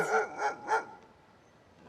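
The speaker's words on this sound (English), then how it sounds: "I'm sorry if this barking is disturbing, but I cannot help it now." Three quick barks from a dog at moderate distance, evenly spaced, followed by quiet and a faint fourth onset at the end.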